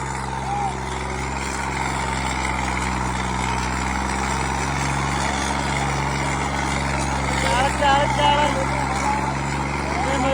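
A Swaraj 855 tractor diesel engine runs steadily nearby with a deep, constant drone, while voices talk over it and the engine swells slightly louder near the end.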